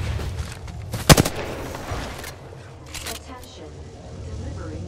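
A single sharp gunshot cracks at a cargo bot in a sci-fi shooter game, followed by fainter game effects and someone talking through much of the moment.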